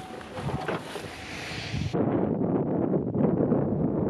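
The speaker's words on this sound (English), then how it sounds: "We got a wind that's actually on the hill at the moment" Wind buffeting a microphone on a hillside during a practice day for a world championship event, a steady broadband rush that shifts abruptly partway through, with no voices.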